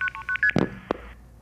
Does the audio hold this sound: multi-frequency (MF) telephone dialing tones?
yes